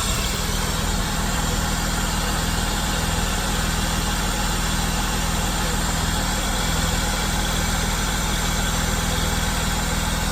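A Holden VS Commodore's 3.8 Ecotec engine idles in a steady, unbroken rumble with a constant low hum, close and loud throughout.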